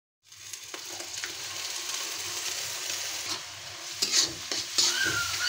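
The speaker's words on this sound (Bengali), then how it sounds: "তো আমার পেঁয়াজটা বেরেস্তা করা হয়ে গেছে, আমি এখন মশলাটা দিয়ে দিব।" Spices are tipped into browned fried onions in a pan for a chicken leg and wing fry, bringing a steady loud sizzle and scraping stirring strokes, with a few sharper clinks of a utensil against the pan.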